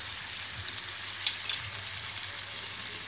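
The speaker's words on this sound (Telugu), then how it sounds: "ఎగ్స్ మీద ఒక గోల్డెన్ కలర్ లేయర్ వచ్చేలాగా ఎగ్స్ని మంచిగా ఫ్రై చేసుకుందాము" Boiled eggs frying in a pan with salt, chilli powder, coriander powder, turmeric and garam masala, a soft steady sizzle with light crackles, fairly faint and with no talk.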